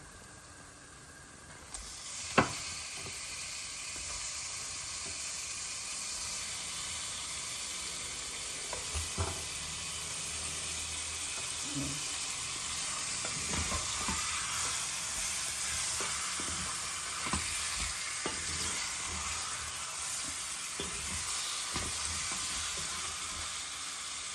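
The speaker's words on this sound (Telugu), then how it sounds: "ఇప్పుడు ఇంకా మన చికెన్ వేసేస్తున్నాను డైరెక్ట్గా" Chicken pieces drop into a hot pan and fry with a steady, loud sizzle that holds throughout, with occasional sharper crackles and light stirring clatter; there is no talking.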